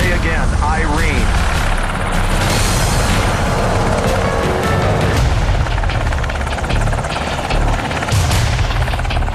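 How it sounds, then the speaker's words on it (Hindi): Four US military helicopters fly low from the Afghanistan border near Pakistan, their rotors a loud, continuous thudding roar with rumbling engine noise under talk. "पाकिस्तान से लगती अफगानिस्तान की सीमा से 4 अमेरिकी हेलीकॉप्टर बेहद खामोशी से उड़ान भरते हैं।"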